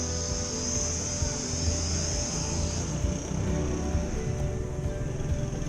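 A Hubsan X4 Desire H502E GPS drone hovers low and sets down on grass, its rotors giving a steady, close buzzing whine that stays constant throughout with no talking.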